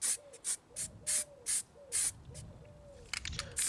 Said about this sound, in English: I undercoat it with a base of Mephiston Red Spray